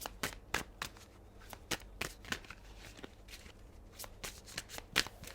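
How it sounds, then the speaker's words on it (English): A deck of tarot cards being shuffled by hand, with repeated crisp riffling flicks and snaps at an uneven rhythm, close and clear, with no voices over it. "One more shuffle."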